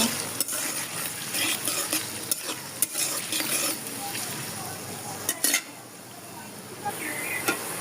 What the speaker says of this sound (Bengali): পেঁয়াজগুলো লাল করে ভেজে নেব।